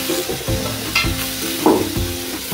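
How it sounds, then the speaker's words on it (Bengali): Food for a village-style noborotno khichuri fries loudly in a pan, a steady sizzle broken by repeated scraping stirs from a utensil, close up with no voices. "দিয়ে এটাকে ভাজবো, একদম সুন্দর করে ভেজে নেব।"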